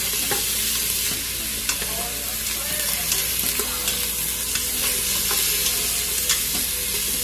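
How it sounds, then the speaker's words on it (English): Steady sizzling of onions sautéing in an Instant Pot for spaghetti, with occasional soft clinks of a utensil stirring, continuous and close with no talking. "We just wanna saute our onions."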